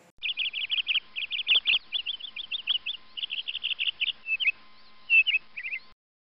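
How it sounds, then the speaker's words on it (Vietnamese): A bird gives rapid, high whistled chirps in quick bursts, repeating steadily for several seconds, close and clear against a quiet background. "Đây là con chim."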